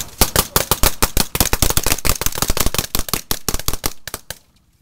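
Rapid bursts of loud gunfire during army combat training with an armored division, dense cracking shots fired in quick succession up close before cutting off abruptly.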